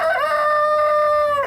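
A rooster crows a single long, loud cock-a-doodle-doo close by, held steady to the end, among chickens in a lot at a disputed property.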